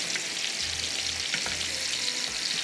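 Methi thaal kebabs fry in oil in a pan, a steady close crackling sizzle with faint low knocks from the pan.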